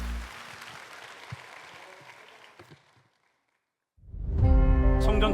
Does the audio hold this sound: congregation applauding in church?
yes